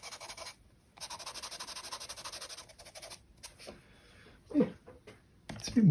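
A Conté à Paris pastel pencil rubs against paper in quick, close scratchy strokes, pauses briefly, then resumes more sparsely among a few louder handling noises.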